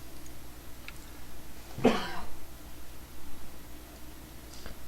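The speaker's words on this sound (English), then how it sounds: "my apologies about that cough" A single short, sharp cough from a man getting over a cold, fairly close and clear, against a faint hiss and low hum.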